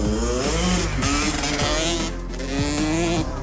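A motorcycle engine warming up revs and idles up close, pitch rising and falling in repeated surges, loud and continuous with no voices.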